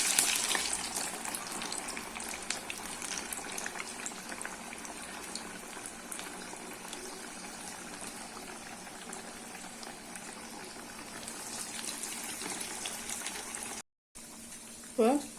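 Dal and drumstick leaf vadas frying in hot oil over a medium flame: a steady, close, bubbling sizzle that continues throughout, briefly cut off near the end.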